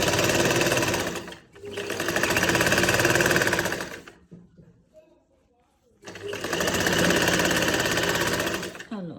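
A sewing machine stitches a sleeve onto a shirt in two long, steady, loud runs of rapid stitching separated by a brief pause, with a voice faintly heard in between.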